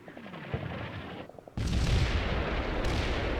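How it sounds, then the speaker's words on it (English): Artillery impacts and gunfire in Combat Mission: Cold War during a US vs. USSR village assault: a scattered crackle of shots at first, then a sudden, loud, sustained roar of blasts and fire that continues to the end, with no voices. "this squad over here is engaging and zooming in on some of these artillery hits over here"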